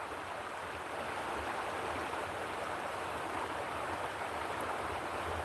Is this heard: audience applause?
no